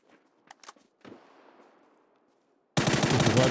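Gunfire in PUBG on Xbox: a few faint shots and clicks trail off, then a loud, sustained burst of rapid automatic fire erupts at the end.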